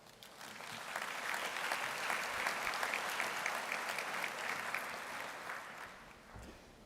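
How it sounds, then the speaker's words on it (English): Audience at a university graduation ceremony breaking into sustained applause, a dense wash of clapping that swells, holds for several seconds and then tapers off. "I ask you to please help me give them a huge round of applause."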